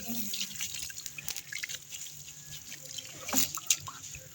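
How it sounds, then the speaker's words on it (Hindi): Water is lightly sprinkled over coriander seeds sown in soil, giving soft close patters and trickling drips in short irregular bursts. "अब हमने इस पे हल्का सा पानी छिड़क देना है।"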